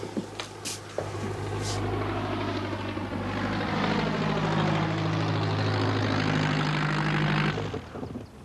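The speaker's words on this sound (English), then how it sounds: "It's Captain Dornish landing now, sir" A propeller aircraft lands with a loud, sustained engine drone that holds steady for several seconds, then cuts off sharply near the end, and nobody speaks over it.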